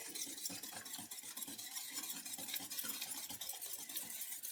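A spoon or whisk stirs a piece of butter into hot pastry cream just taken off the heat, making a soft, steady, continuous scraping and swishing that stays faint and even throughout, with no voices.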